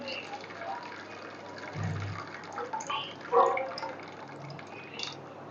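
Water pours and drains steadily from a pot of boiled drumsticks (moringa pods), with a few soft clinks and splashes in a noisy, close setting.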